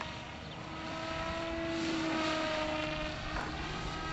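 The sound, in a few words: Hawkeye RC camera plane flying with engine at full throttle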